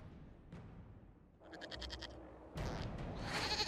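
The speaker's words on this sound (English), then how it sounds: "we discovered this man attacking the building with a goat." A goat bleats in the fantasy video game Dragon Age Inquisition during a fight at a building in the Crestwood area, a short wavering bleat followed by louder game effects and clatter.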